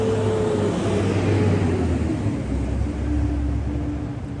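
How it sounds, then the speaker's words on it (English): A loud truck rumbles past on a nearby road, a steady heavy engine roar that swells and lingers for several seconds with no talking. "sorry, loud truck."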